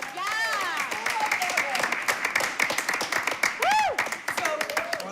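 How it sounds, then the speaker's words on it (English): Crowd applause and clapping with cheering voices and whoops rising over it, a dense, lively wash of sound from a large audience at a school committee meeting. "Big round of applause."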